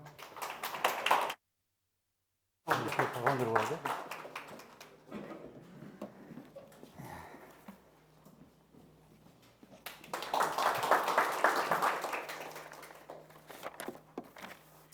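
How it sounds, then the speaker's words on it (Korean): Audience applause at a graduation ceremony of an urban regeneration academy in Nonsan, greeting a city section chief: two bursts of dense clapping, one brief at the start and a longer swell near the end, with a voice talking in between. "김봉순 과장 나오실 때 큰 박수 부탁드리겠습니다"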